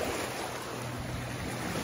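Ocean surf washing onto a beach in front of houses, a steady broadband roar of breaking waves with wind buffeting the microphone, close and continuous, no talk.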